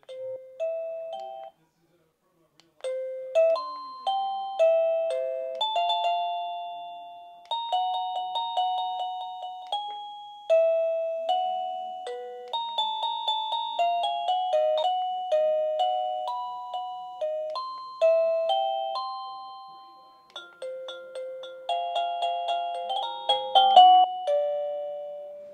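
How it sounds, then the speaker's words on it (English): A series of electronic chimes from a wireless video doorbell plays one after another, short melodic tone sequences with brief pauses, clear and fairly quiet, no talking. "The unit has a number of doorbell chimes of your choice that you can go through."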